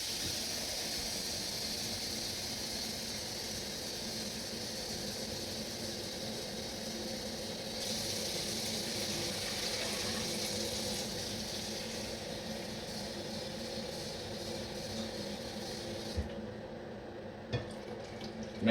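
Water running steadily into a cooking pot holding a quarter cup of baking soda, a continuous close hiss and gurgle that stops near the end with a couple of soft knocks.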